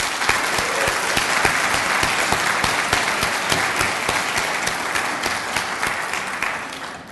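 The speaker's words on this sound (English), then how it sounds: "let's all give a round of applause for our inductees" Applause for inductees at a Gamma Beta Phi induction ceremony, an indoor audience clapping steadily with many distinct, sharp individual claps standing out, sustained and fairly even throughout without speech.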